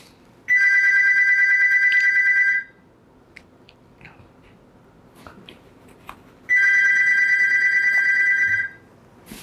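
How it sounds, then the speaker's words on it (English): A landline telephone rings in two long electronic trilling bursts separated by a few seconds of quiet room tone, loud and close, with faint background rustle between rings. "Let her answer the phone."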